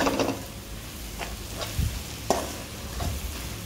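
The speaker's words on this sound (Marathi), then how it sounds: "ही भाजी मी घातलेली आहे आणि त्याला चांगली अशी परतून द्यायची आहे." Radish greens being sautéed in a pan, a soft continuous sizzle with a few scraping stir strokes and light knocks, up close and without talk.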